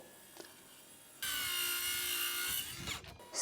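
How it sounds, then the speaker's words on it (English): A compact power saw cuts into a wooden overhang, giving a loud sustained buzzing cut of about a second and a half after a quiet start, then a few scraping sounds as it winds down. "which I trimmed most down with my compact saw"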